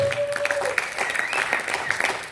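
A church congregation applauding and cheering for the Lord, a busy patter of many hands clapping at moderate distance, with a brief voice at the start.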